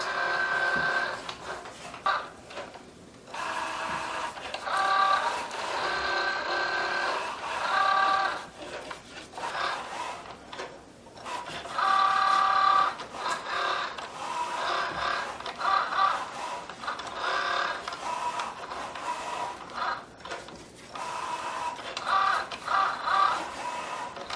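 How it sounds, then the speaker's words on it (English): A Cricut Joy cutting machine works through a 70-inch long design with a steady whirring motor broken by repeated short whines and clicks, close and moderately quiet, with no talking. "Cricut Joy has started cutting my design."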